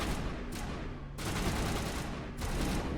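Gunfire from the video game Mass Effect Legendary Edition, heard on Noveria as sustained volleys of shots in a few bursts of rapid fire with short pauses between them, moderately loud.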